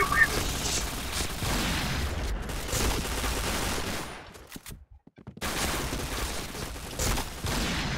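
Rapid bursts of gunfire from the first-person shooter game Point Blank, dense and loud through most of the stretch, broken by a brief near-silent gap, with players talking over the shots.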